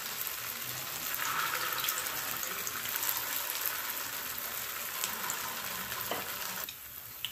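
Rice flour stuffed snacks frying in hot oil over a medium flame, a steady loud sizzle and bubbling that continues throughout before easing slightly at the end.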